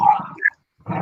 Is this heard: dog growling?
yes